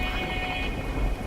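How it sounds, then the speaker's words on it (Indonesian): Hailstorm with wind on a snowy mountain as a horror story effect: a dense, continuous rushing roar of pelting precipitation over a low rumbling undertone, loud and unbroken. "Hujan es dan angin mulai menerpa."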